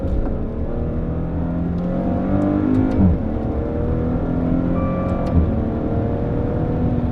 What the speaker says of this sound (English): And every time you upshift, you have huge bangs. When you downshift, there's some crackles there.